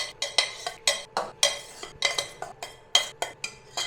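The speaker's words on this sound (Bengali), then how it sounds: "আর একটু ভালো করে মিশিয়ে দেবো" A spoon stirs syrup-soaked ros puli pitha in a metal pan, producing a quick, uneven series of close clinks and scrapes with short pauses between strokes.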